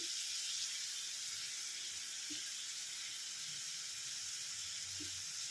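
Butter sizzling in a pan with prawns, a steady soft hiss and crackle of frying, fairly close and continuous throughout with no talk.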